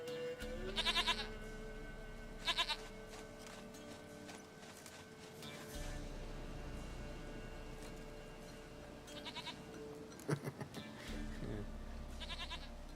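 Repeated bleating from a goat in the video game The Witcher 3, several brief calls spread apart over quiet game ambience with occasional clattering mechanical sounds and hoof-like clops.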